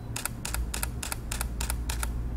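A Canon EOS M5 mirrorless camera fires in high-speed continuous shooting, its shutter snapping in a steady run of eight quick double clicks, close and crisp.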